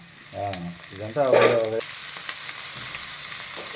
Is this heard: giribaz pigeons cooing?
no